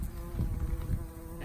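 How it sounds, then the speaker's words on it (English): A bumblebee buzzes close by outdoors near flowers, a steady low drone with slight wavering, continuous for the whole moment. "There's a bumblebee."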